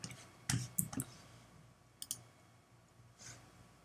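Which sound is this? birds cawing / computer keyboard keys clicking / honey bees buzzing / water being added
computer keyboard keys clicking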